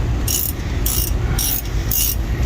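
A hand ratchet snugs down spark plugs in a car engine, giving four evenly spaced bursts of sharp clicking over a low steady background hum.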